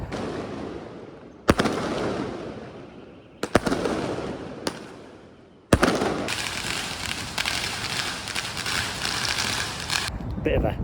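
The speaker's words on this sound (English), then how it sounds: "there was also fireworks happening just like everywhere, in between buildings" Fireworks burst between city buildings in Xining, sharp booming cracks echoing off walls followed by long rumbling decays, then a dense barrage of crackling explosions, with people's voices audible beneath.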